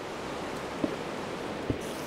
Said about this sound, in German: Ich habe bloß nicht gehört, weil der Regen so laut ist.